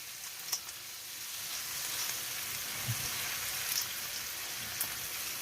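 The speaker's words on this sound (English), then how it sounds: "I'm going to mash them down into that mixture, and I'm going to turn this down just a little bit." Beans being mashed into a cooking meat mixture for burritos sizzle steadily in a pan on a new stove, a close, soft continuous crackle with a few brief louder pops and no talking.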